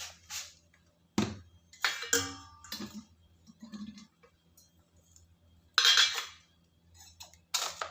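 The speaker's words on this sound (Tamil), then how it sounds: "இது நல்லா கலந்து விட்டுருவோம்" Metal spoon clinking against a vessel while salted rice prasadam is stirred, a few sharp scrapes and taps in short bursts with quiet gaps, close and moderately loud.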